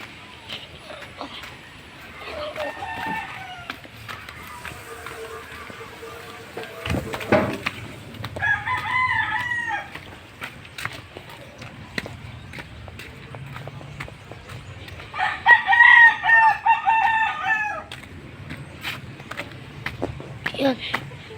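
A rooster crows twice, in bursts several seconds apart, loud and fairly close, over a busy outdoor background with people talking.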